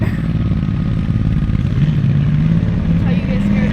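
A Can-Am X3 side-by-side races up a sand dune, its engine droning and rising in pitch as it climbs, with people talking over the noise throughout.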